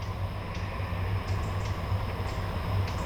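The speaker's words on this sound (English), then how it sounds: "all you can hear is the trains and the birds" Trains on a railway line near a carp fishing pond produce a faint, steady low rumble with a gently pulsing drone throughout, heard from a distance in otherwise quiet countryside.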